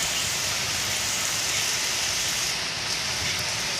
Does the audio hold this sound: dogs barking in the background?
no